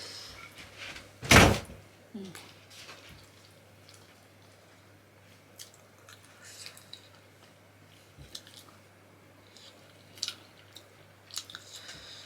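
A door shut once with a single loud, sharp close thud, followed by a quiet room holding faint scattered clicks and a low steady hum, with no talk.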